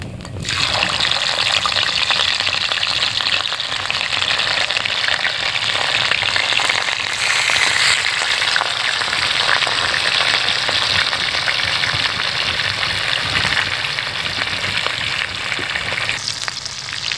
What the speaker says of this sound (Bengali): আমার তেলটা গরম হয়ে এসেছে, আমি এবার একটা একটা করে মাছ ছেড়ে দিব তেলে